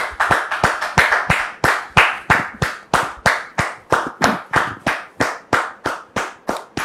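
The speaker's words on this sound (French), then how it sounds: "oir maintenant notre frère, monsieur Arnold, sous vos applaudissements" Audience at a French television talk show clapping in a steady, unison rhythm, loud and close, about three claps a second with no talk over it.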